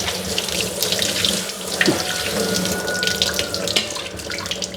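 Water runs steadily from a tap and is poured over crushed cassava to wash it, a loud, close, continuous splashing stream with no pauses.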